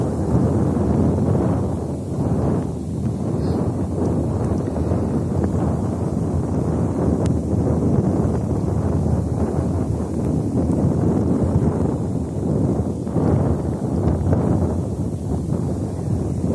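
Strong wind on the Rügen coast near Alte Fähr, facing Hiddensee, roaring steadily and buffeting the microphone with a dense, continuous rush throughout.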